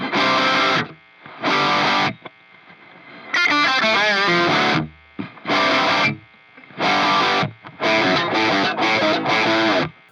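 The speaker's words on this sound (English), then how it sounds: "the sound you're hearing is just the guitar, straight into the Metal Zone, into a DI" Electric guitar plays a heavy riff through a new Boss Metal Zone distortion pedal, recorded straight into a DI, loud choppy bursts of chords separated by short silences, played alone.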